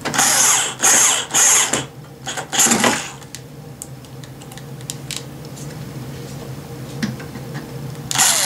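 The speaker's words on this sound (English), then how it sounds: "I like to take a regular Phillips head and hand tighten them so I know how tight I have them" A Phillips screwdriver turns screws by hand into the bracket of a Roland KR 370 digital piano, giving bursts of close ratcheting clicks and scraping, then quieter scattered ticks.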